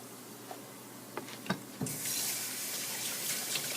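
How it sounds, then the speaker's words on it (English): Kitchen tap turning on after a few soft clunks, then water runs steadily into a sink as hands are rinsed, a constant close hiss. "Rinse my hands off here."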